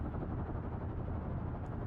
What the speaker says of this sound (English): I'm sure the helicopter will wait for me.